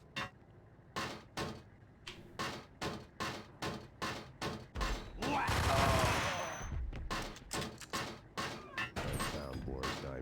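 Ingram machine pistols fire in the Max Payne video game, a steady run of sharp bursts repeating roughly twice a second, with a denser, louder stretch of gunfire and clatter in the middle.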